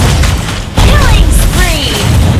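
A turret being destroyed in the Mobile Legends video game: a sudden heavy boom cuts in partway through, followed by bright rising and falling tonal sweeps over a loud, busy game background.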